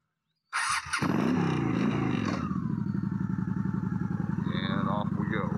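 A motorcycle starts up with a thump and clatter, then its engine idles and pulls away in a steady, pulsing putter, close and loud, as the rider sets off slowly with a drone following.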